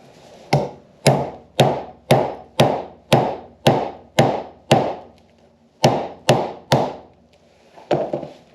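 A round container being busted into pieces for camping firestarters gives a series of sharp, loud whacks at a steady rhythm, about a dozen strikes with a short pause before the last few, close by and alone.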